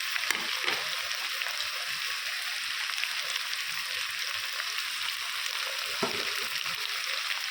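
Chicken and lightly browned fried onions sizzle steadily in a pan, a constant dense crackle with occasional stirring scrapes, close and even throughout with no voices.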